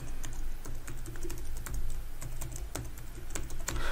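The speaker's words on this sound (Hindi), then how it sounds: "अब देखिए यहाँ पे मुझे अपने अकाउंट का पासवर्ड डालना होगा वेरिफिकेशन के लिए" An account password is typed on a computer keyboard, with close, rapid, irregular key clicks continuing steadily with no voices.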